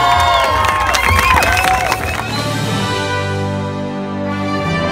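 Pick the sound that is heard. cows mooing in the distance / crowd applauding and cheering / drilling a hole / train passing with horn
crowd applauding and cheering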